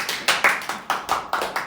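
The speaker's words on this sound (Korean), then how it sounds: "박수!" A handful of hands clap together in a short burst of about seven sharp claps in quick succession, close and fairly loud, at a casual Korean variety-show gathering.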